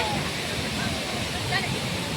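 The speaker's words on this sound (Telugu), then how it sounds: "సేమ్ నిన్న వాటర్ ఫాల్స్ ఎలా ఉందో ఇది కూడా అలాగే ఉందన్నమాట" A waterfall at Munnar, Kerala roars in a dense, steady broadband rush that fills the whole short stretch without any break.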